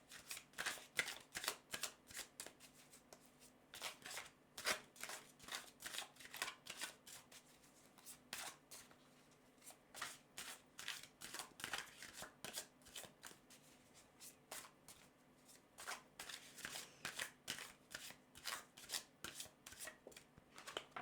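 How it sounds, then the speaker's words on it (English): Rapid, crisp riffling of a tarot deck, repeated in bursts over and over, close up with no talking. "I'm going to just shuffle this deck several times"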